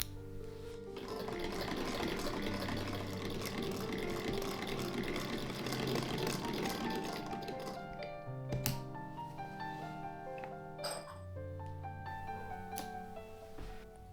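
A sewing machine stitches the outseam of a pair of pants in a steady whirring run, then slows into shorter bursts with small clicks, faint and close with no talk.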